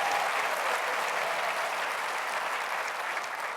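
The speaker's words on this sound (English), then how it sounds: "I knew that would get a round of applause." A university audience at an annual address at Cornell breaks into continuous, even applause, a dense wash of clapping held at steady volume from start to finish.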